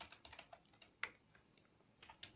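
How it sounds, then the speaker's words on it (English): Quick, light keystrokes on a computer keyboard while a letter is typed in Microsoft Word: a close, quiet run of irregular clicks with one sharper tap partway through. "you can select the left alignment and start typing"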